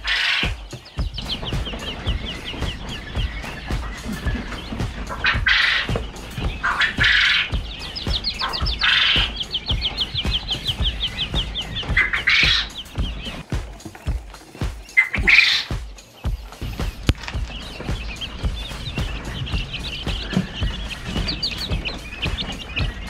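Quail layers calling inside a farm enclosure, with repeated loud rhythmic chirps and squawks in bursts over a constant chorus of bird noise and clatter.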